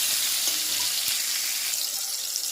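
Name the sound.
sautéing chilies, tomatoes and five-spice in a pan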